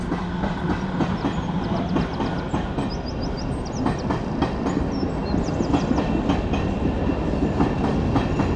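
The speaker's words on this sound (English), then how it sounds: "Oh look, there's a sick train here." A train passing on the railway near Rayners Lane, London, with a loud continuous rumble and rhythmic clickety-clack of wheels over rail joints, plus faint squeals.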